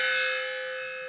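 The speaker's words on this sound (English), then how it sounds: "you can hear the gong everywhere in the office" An office gong struck by a small motor set up to ring on every sale gives a single close, bright metallic ring that hangs and slowly fades, with no voices.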